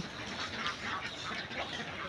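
A flock of laying ducks quacks in a dense, continuous chorus nearby, the calls overlapping with no clear pauses and no talking.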